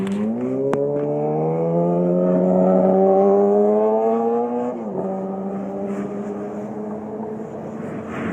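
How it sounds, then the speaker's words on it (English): Passing vehicle on a road beside hotels near Disneyland, a loud engine drone rising steadily in pitch as it approaches, then dropping after passing, with a sharp click early on. "the downside is you have your typical traffic noise, your normal activity in the world"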